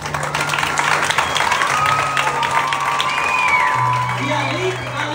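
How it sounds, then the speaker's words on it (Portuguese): A round of applause at a church tribute for women who cooked lunch for the workers, crowd clapping and cheering mixed with voices and a sustained musical tone, fairly loud throughout. "Merece uma salva de palmas."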